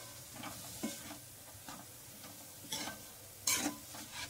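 A spoon stirs fenugreek leaf (methi) vegetable in a pan with soft repeated scrapes over a low sizzle, a few sharper clinks standing out, close and fairly quiet.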